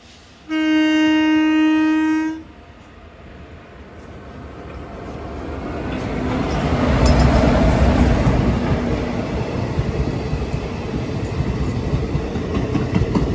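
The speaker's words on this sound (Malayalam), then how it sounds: "ഇതൊരു എക്സ്പ്രസ് ട്രെയിൻ തന്നെയാണ്" An express train on an Indian railway line sounds a loud, steady two-second horn blast, then its rumble and clatter swell as it draws near and stays loud as it rolls past.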